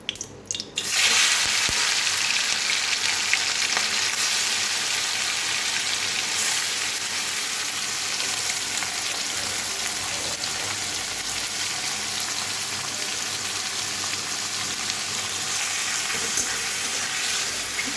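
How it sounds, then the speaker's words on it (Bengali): Prawns fry in a pan with a loud, continuous close sizzle that holds steady throughout after a brief clatter at the start, with no voices. "তো আমি চিংড়ি মাছটা ভেজে উঠাই।"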